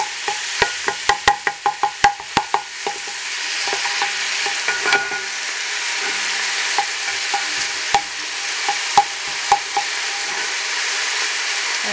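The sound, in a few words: onions frying in vegetable oil in a pan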